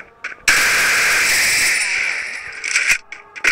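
Gunfire in a video game, a sudden loud burst that holds for about two seconds, then tails off into a few scattered shorter shots near the end.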